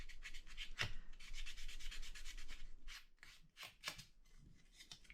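Steady back-and-forth rubbing of a Tamiya foam sanding block on hard plastic model truck parts, close up, with quick scraping strokes and short pauses.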